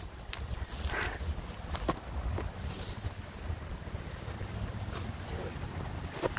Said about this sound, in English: Yeah, the wind in my ears.